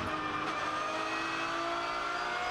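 Porsche 911 race cars, including the Manthey entry, competing in a VLN endurance championship race in 2018, producing a continuous loud engine roar with a steady high drone and no breaks.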